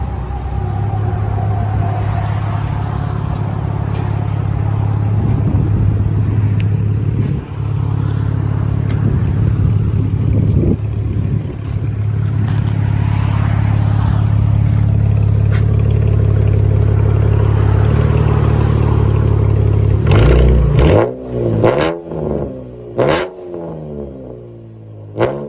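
A Chevy Camaro with a new Y pipe in place of the muffler and 5-inch tips rumbles loudly at idle for a long stretch, then snaps through several quick, sharp revs near the end.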